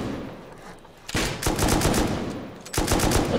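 Gunfire in the video game Rust: after a quiet start, rapid bursts of automatic shots break out, a dense rattling volley, a short lull, then another burst, loud and close.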